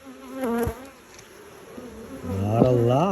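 Honey bees buzz around an opened hive during an inspection, giving close, wavering drones that swell and bend in pitch as individual bees fly near, louder toward the end, with no talk over them.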